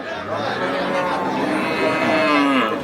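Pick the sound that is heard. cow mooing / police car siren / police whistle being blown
cow mooing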